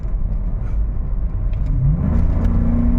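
A 31-year-old Mercedes W124 E420 sedan drives along, its V8 engine giving a steady, smooth low rumble that swells as it revs and accelerates toward the end.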